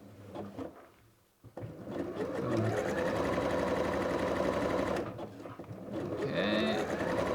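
A sewing machine runs in sustained loud bursts, stitching a steek along marked lines on a hand-knitted sweater. Short pauses and handling clatter break up the motor whir, and there is no talk.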